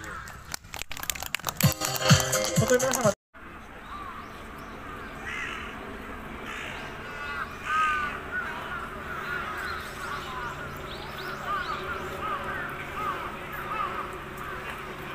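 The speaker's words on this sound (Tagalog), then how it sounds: "so maraming uwak dito" Several crows caw repeatedly at a moderate distance in Yoyogi Park after a brief burst of close rustling and handling noise; outdoor ambience throughout.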